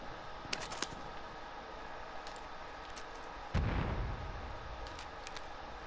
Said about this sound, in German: Ich höre Schüsse, Freunde. Ich höre Ballerei, aber von welcher Seite?